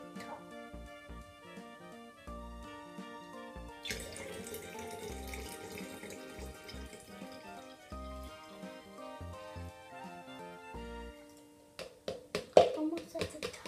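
Water poured into a container for a kids' water ball science experiment, a steady close trickle with faint voices underneath, ending in a few clattering handling knocks.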